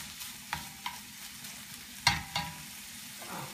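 Chopped bacon and onions sizzle quietly in a pan while a utensil scrapes and stirs them, giving a few sharp clinks over a soft background crackle.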